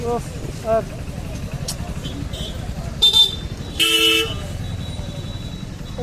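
Congested street traffic in Assam with several car horns tooting in short separate beeps over a steady road rumble, while a voice talks throughout.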